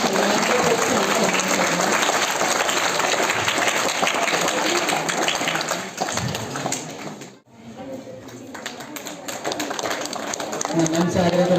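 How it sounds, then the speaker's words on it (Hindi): An audience at a school debate competition applauds the participants with dense, sustained clapping that briefly dips and then swells again, while voices mingle in the crowd noise. "सबसे पहले इन सभी प्रतिभागियों के लिए बहुत बहुत ज्यादा आप लोगों की तरफ से ताली बजाई जानी चाहिए।"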